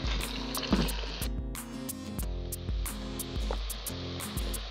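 Boiled water pours into a multicooker over meat and carrots for Uzbek pilaf, a steady liquid splash and trickle with a low hum underneath, continuous for several seconds with no voices.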